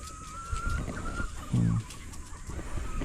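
Juvenile purebred Darag native chickens cluck close by, with a short louder burst of low clucking near the middle over steady outdoor farm background noise.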